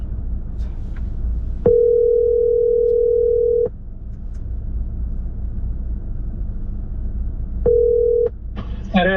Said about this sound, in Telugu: ఒకసారి నేను ఫోన్ చేస్తాను.